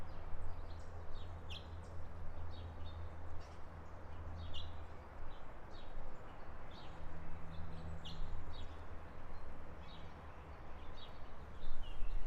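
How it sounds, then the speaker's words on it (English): Birds chirp outdoors in a suburban Indianapolis yard on a sunny February day, giving short, scattered high tweets at a distance over a faint, steady background hum. "So far we've got a few birds."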